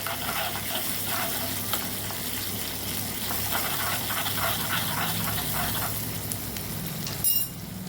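Butter melts and sizzles in a hot pan as garlic paste goes in, a steady close frying crackle with bubbly bursts and the clink of stirring, with no voices.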